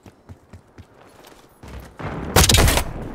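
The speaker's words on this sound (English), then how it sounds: "Throwing frag." In the Black Ops 6 video game, a frag grenade explosion and gunfire come after a few faint clicks and scattered shots, building into a loud, dense burst and then a sustained rumble.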